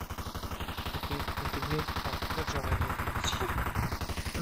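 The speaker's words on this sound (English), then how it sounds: "Machine gun." Machine gun fire in a tactical video game, a fast rapid rhythmic stream of shots rattling continuously and loudly throughout.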